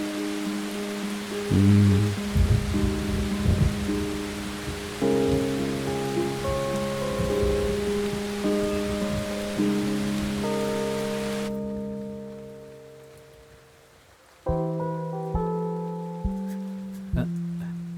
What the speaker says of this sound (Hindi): वो बारिश देखने आई थी।